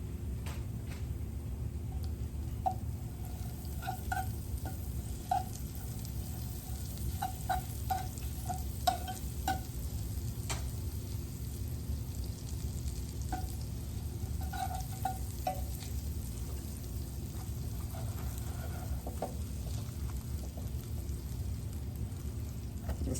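Garlic sizzles steadily in melted butter in a pan, with a continuous close frying hiss and scattered light clicks and scrapes of a utensil stirring, no talking heard.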